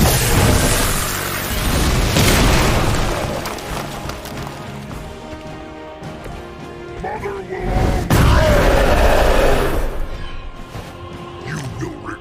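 An in-game detonation in Marvel's Midnight Suns sets off loud booming blasts with heavy low-end bursts that swell and fade, mixed with game effects and a voice talking over it.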